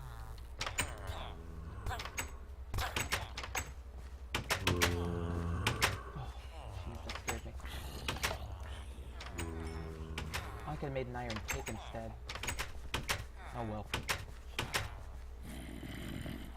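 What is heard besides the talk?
door opening and closing in the video game Minecraft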